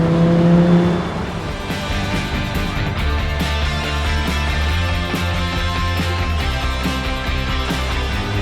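Audi R8 V10 Spyder engine pulling steadily while driving, a smooth, sustained mid-pitched drone with shifting harmonics and faint wind, heard close and even after a brief louder opening.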